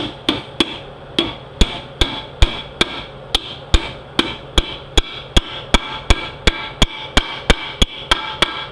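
A seal is driven into a 6L80E transmission case with about twenty sharp, evenly spaced hammer taps, loud and close, each ringing briefly before the next.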